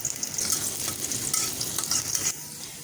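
Onions fry in hot oil in a wok (karai) for a dried-fish curry, a loud close crackling sizzle stirred in uneven scraping bursts that thins out near the end, with no voices.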